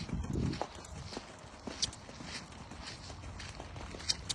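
Horse cantering during a jumping ride lesson, with soft rhythmic hoof clops on footing amid light background noise, fairly quiet and steady throughout.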